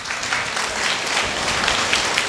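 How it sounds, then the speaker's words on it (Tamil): An audience claps steadily at a Tamil ceremony, a dense, even wash of applause filling the whole stretch without pause. "அவருக்கு பெரிய ஒரு கைதட்டுக்கணுங்க."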